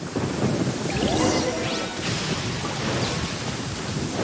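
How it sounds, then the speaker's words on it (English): Loud, continuous thunder rolls through a lightning storm in Genshin Impact, with rain hissing steadily throughout and rumbling cracks swelling and fading without a break. "Uh-oh! Lightning storm!"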